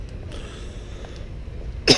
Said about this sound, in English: you're gonna get coughing every now and then